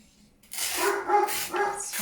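A dog barks indoors close by, a loud burst of one or two sharp barks with a yelping edge that cuts into a quiet room.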